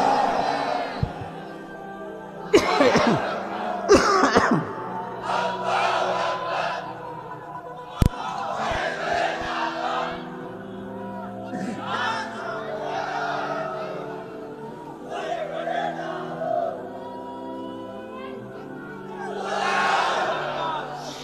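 A sermon crowd roars a takbir chant back in unison, loud bursts of many voices rising and falling in repeated waves over a droning hall ambience, one sharp bang near the middle.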